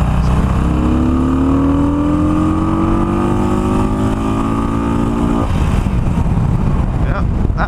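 A Harley-Davidson Iron 883 engine, ECM flashed after an air box mod, revs steadily upward for about five seconds until it hits the rev limiter and cuts off, followed by rumbling idle and some talk.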